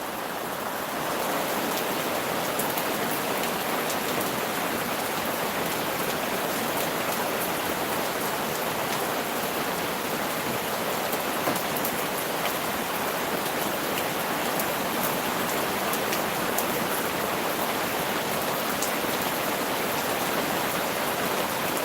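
Steady rain falls continuously and loudly for the whole stretch, a dense even hiss of drops with no voices.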